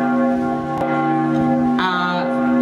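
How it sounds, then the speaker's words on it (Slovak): Church bells ring out in Zvolen, Slovakia, during an evening town event, giving a steady, sustained ringing tone with clear overlapping strikes and no talk. "Aj keď teda už zvony zvonia na koniec"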